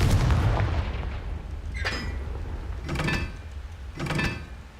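Confringo spell cast in Hogwarts Legacy, a series of three sharp blasting bursts with crackling tails, preceded by a rumbling low roar, loud and close.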